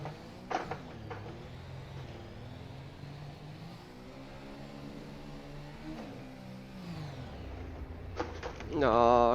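An F1 2019 FSR car in rFactor 2, racing in wet conditions at Baku, engine-braking with its engine note winding steadily down and back up, under a continuous drone, before a sharp rise at the end.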